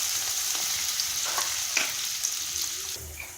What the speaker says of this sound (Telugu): ఆయిల్ వేడెక్కిన తర్వాత ముందుగా ఉల్లిపాయ ముక్కలు వేసుకోవాలి